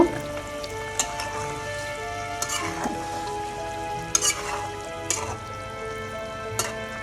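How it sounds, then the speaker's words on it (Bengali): Boiled eggs are stirred into a simmering Bengali-style cauliflower curry in a pan, with a continuous close sizzle broken by occasional sharp spatula scrapes and knocks against the pan. "ডিমগুলো দিয়ে আমি একটু ফুলকপির সাথে মিক্স করে দিব"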